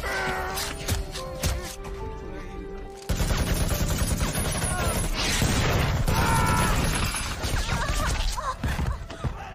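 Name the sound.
gunfire in a film battle scene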